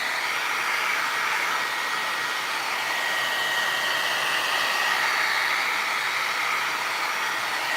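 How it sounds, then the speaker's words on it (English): A heat gun blows hot air over a piece of furniture being refinished, a steady, close, breathy roar that holds evenly throughout with no talking. "don't get your heat gun too close to it or you're gonna have it bubble up a little bit"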